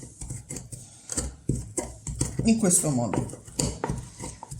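Basil pesto with coarse salt pounded with a pestle in a mortar, a quick series of close knocks and grinding scrapes with an uneven rhythm, while someone speaks Italian over it.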